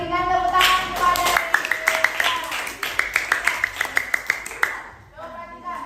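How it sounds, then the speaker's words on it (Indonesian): A class claps in rhythmic unison, a run of sharp, close claps in a regular beat, with voices speaking before and after and a short tune-like vocal pattern around it. "berikan tepuk tangan kepada"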